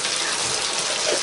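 Gravy bubbles and hisses in a pan over heat, giving a dense, constant seething sound close up with no talk.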